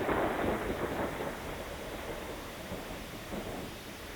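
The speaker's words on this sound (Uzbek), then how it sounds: "Chaqmoqli dovul." Thunderstorm recording from the Voyager Golden Record, a steady broadband roar of rain and rumbling thunder, fairly faint and continuous throughout with no voices.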